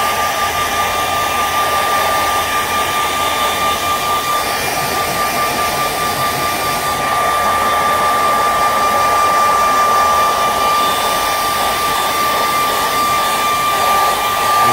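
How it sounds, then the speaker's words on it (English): A blow dryer runs continuously at full power, a loud, steady whooshing roar with a high whine, close by, used while working on a car's cosmetic parts such as tail lights. "Get yourself a blow dryer"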